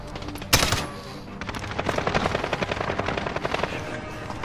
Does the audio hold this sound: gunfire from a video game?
yes